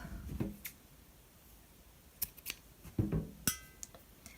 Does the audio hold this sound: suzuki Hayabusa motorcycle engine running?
no